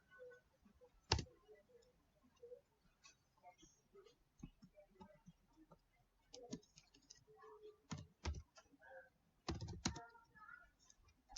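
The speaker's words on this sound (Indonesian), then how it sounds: "Kita ketikkan dulu aja public." Soft, irregular typing on a computer keyboard while coding in Java, scattered taps with a few louder key clicks, faint and close with no talking.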